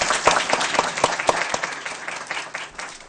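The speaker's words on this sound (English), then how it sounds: "Let's give them one last round of applause." A crowd at a school board meeting applauds steadily, with sharp individual claps standing out near the start before the clapping thins and fades slightly.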